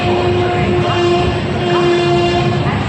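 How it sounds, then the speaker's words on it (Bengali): The Rupasi Bangla Express pulls out of Santragachi Junction bound for Purulia, a loud, steady rumble with a sustained horn tone running through the whole stretch. "আমাদের ট্রেন সাঁতরাগাছি জংশন থেকে রওনা দিচ্ছে পুরুলিয়ার উদ্দেশ্যে"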